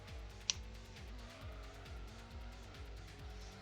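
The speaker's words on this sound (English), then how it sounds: "Apparently I'm trying to drift." Car drifting in the Gran Turismo racing game, engine droning with repeated rhythmic pitch surges as the tires scrub and squeal, steady and moderately loud with one sharp click early on.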